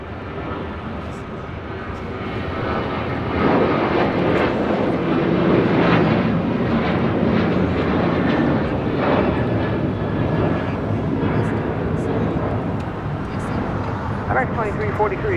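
An airliner's jet engines roar loud and steady during takeoff from runway 25 right at LAX, building over the first few seconds and holding a broad continuous rumble.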